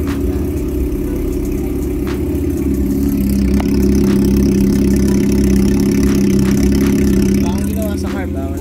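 A Honda CB400 motorcycle engine idles close by with a loud, steady low rumble and a slight rise in revs midway. Talk is heard over it.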